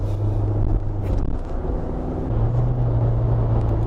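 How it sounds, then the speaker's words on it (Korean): A SsangYong All New Rexton SUV's engine drones steadily inside the cabin, with road rumble and a rising whoosh of wind noise as it gathers speed. "쭉 속도를 끌어올리고 바람 소리가 좀 들리죠."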